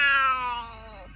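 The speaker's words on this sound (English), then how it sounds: "they were greeted by a big and ferocious cat" A big, fierce cat lets out one long, loud meow that slowly fades and drops in pitch, with no other sounds around it.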